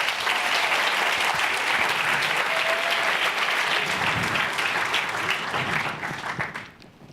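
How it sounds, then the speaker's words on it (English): Sustained, loud audience applause at the Ignite Buffalo finals at SUNY Erie, a thick wash of clapping hands that holds steady and then tapers off at the end. "A round of applause for those great partners"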